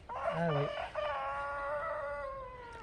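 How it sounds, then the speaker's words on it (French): A rooster crows once, close and clear, in a rural garden setting while turnips and leeks are pulled; a brief spoken exclamation comes just before the long drawn-out call. "Et il y a le coq qui chante, hein."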